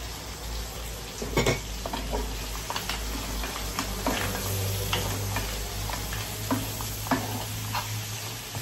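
Mussels and vegetables adobo stirred in a pan, with a steady sizzle under repeated scraping and clinking of a utensil against the pan, close and continuous, with no talking.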